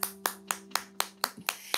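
Hands clap in a steady beat, about eight sharp claps roughly four per second, close and fairly loud with no talking, as part of a toddler classroom song.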